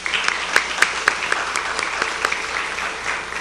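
An audience at a social housing consortium presentation applauds loudly and steadily for about three seconds, with a few sharp individual claps standing out over the dense clapping.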